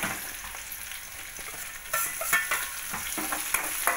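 Tomatoes and garlic-coriander paste fry in a hot pan with a steady sizzle, broken by short scraping stirs and crackling bursts that grow louder partway through.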